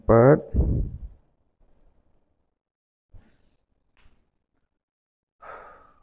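A person breathes in deeply then sighs out during a slow spine-stretching exercise, one strong close breath followed by a few faint soft breaths and a final quieter exhale.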